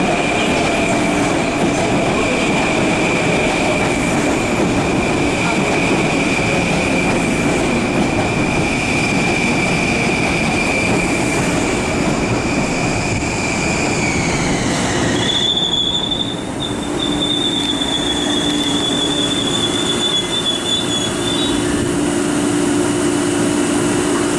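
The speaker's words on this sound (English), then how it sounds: "The 601 train to Massapequa is now arriving on track 2." A Long Island Rail Road train rumbles loudly and steadily on the tracks, with a high wheel squeal that shifts pitch midway as it pulls into the station, no voices.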